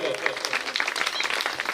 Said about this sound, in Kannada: ಆ ಎಲ್ಲಾ ವಿದ್ಯಾರ್ಥಿಗಳು ಒಂದು ಜೋರಾದ ಚಪ್ಪಾಳೆ ಬರಬೇಕು